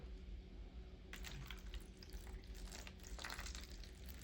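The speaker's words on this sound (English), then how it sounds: "So you gotta add some water." Water runs and splashes faintly from a tap into a Jiffy greenhouse kit, a soft continuous trickle that grows slightly brighter partway through.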